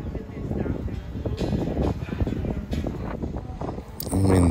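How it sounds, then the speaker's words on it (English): Strong wind gusts across an outdoor wedding reception area at Bel Vino Winery in Temecula, with a steady, loud buffeting rumble hitting the microphone throughout. "Wind's really picking up and it's getting late"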